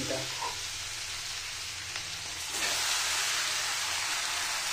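Chicken pieces frying in a pan for a Bengali chicken jhol, a steady close hiss and sizzle that swells louder partway through as the chicken goes in and keeps crackling.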